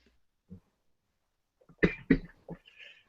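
A few short, sharp coughs close by, clustered together after a brief quiet stretch.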